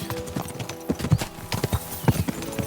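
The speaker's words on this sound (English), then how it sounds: "We should spur the horses on." Horse hooves clip-clop at a quick gallop in the medieval game Kingdom Come: Deliverance II, a close, loud run of uneven thudding beats with no voices over them.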